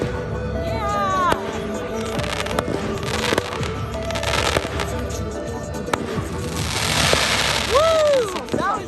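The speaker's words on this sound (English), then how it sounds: "Those are the best fireworks, and we didn't even get it on camera." Fireworks go off in a string of sharp bangs and crackles, with whistling rockets rising at the start and again near the end, while people talk and cheer in between.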